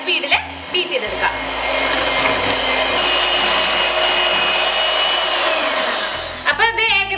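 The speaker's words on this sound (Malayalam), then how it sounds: "ചെറിയ സ്പീഡിൽ ബീറ്റ് ചെയ്തെടുക്കുക. അതിനുശേഷം നമ്മൾ വലിയ സ്പീഡിൽ ബീറ്റ് ചെയ്തെടുക്കുക." An electric hand beater whips Nutella hazelnut cake batter at high speed, a steady, loud motor whir running unbroken for several seconds, with brief clatter and handling noise at the start and end.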